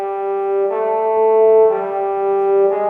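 Synthesized MIDI tones for quarter-tone trombone practice hold a steady pitch while a second tone steps through a whole tone, a semitone and a quarter tone, then back out. The three clear interval changes are sustained, close and alone.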